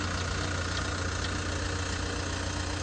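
A 2005 Caterpillar 277B compact track loader's engine idles in a steady, even mechanical drone with a low, constant hum and no talking.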